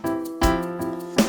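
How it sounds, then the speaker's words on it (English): A short drum groove is played on a hi-hat, giving a few quick, evenly spaced strikes with heavier accents against a sustained musical backing. "you can hear how it sounds on the hi-hat here,"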